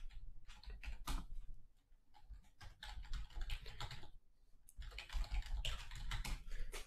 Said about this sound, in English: That's why you hear me typing.